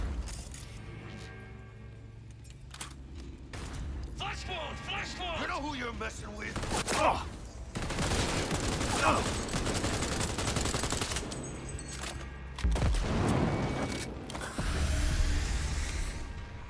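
Gunfire in the video game Cyberpunk 2077: bursts of automatic shooting and sharp cracks run through most of the stretch, mixed with game noise and loud and dense throughout. A voice talks over parts of it.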